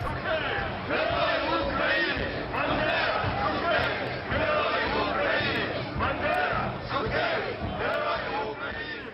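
Crowd at a nationalist rally in Ukraine cheering and shouting in unison, loud and continuous, with rhythmic waves of chanting voices close by.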